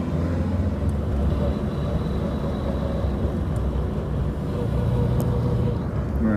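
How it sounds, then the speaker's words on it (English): A vintage Morris Minor 1000 pulls away in first gear and shifts up, its engine a constant low droning rumble with road noise, steady and fairly close throughout. "now we give it some gas, and we go"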